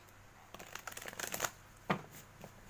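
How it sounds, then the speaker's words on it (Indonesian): Tarot cards shuffled by hand to draw an extra card, a quiet run of rapid riffling flutters followed by two short separate card snaps, close and alone. "buka kartu tambahan ya untuk pile 1"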